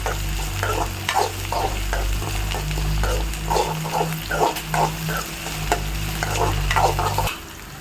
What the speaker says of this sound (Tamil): ஜீரகம், கடுகு, பருப்பு, பச்சை மிளகாய், பூண்டு, கொஞ்சோன்னு புளி, இது நல்லா செவக்க வதங்கணும்